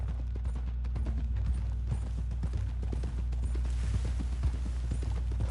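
Horse hooves clip-clop in Red Dead Redemption 2, a steady run of light, even hoofbeats close by over a low continuous game hum, with faint creaks mixed in.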